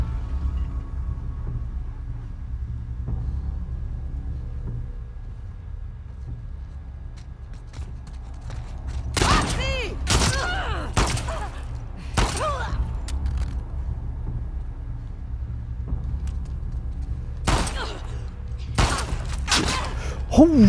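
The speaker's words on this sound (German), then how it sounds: "Der Schuss war knapp, Alter." Gunshots in The Last of Us Part 2 ring out as sharp, loud separate cracks in small clusters over a quiet low ambient hum, with echoing tails after each shot.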